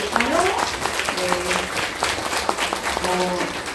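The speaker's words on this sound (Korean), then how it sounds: "우리 박수로 시작해볼까요?" An indoor audience at an evening gathering claps together in sustained applause, a dense crackle of many hands, moderately loud, with brief vocal whoops rising over it and a voice speaking partway through.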